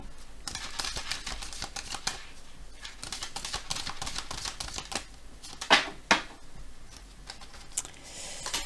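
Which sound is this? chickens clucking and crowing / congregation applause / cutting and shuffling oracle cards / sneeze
cutting and shuffling oracle cards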